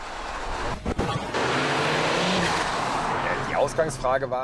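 A Ford Focus RS driven hard, its engine loud and continuous with tyre squeal and a roaring rise toward the end, close and steady throughout.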